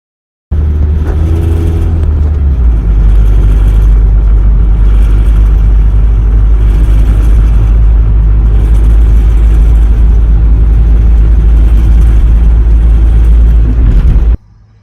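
A van engine with a failing timing chain runs steadily and loudly, a constant low rumble with mechanical clatter holding from start to finish, no voices.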